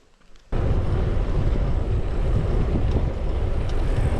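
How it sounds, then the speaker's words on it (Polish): Strong wind from the north-east on a coastal cycling trail near a cliff roars into the microphone, starting abruptly after a short quiet moment and then buffeting loudly and steadily throughout. "No wieje dziś niemiłosiernie"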